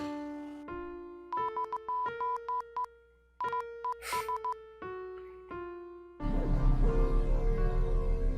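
Phone tones from a WhatsApp call being placed: a stepped series of clean electronic beeps in quick rhythmic bursts for about six seconds, then a sudden loud noisy burst takes over.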